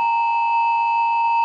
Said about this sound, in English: a very useful sound indeed, is something called triangular, and it's kind of a pointed sine wave